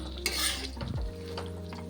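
Diced potato is sautéed in a pan with a quick burst of sizzle as it goes in. A low rumbling scrape of stirring follows, then a fainter steady frying hiss.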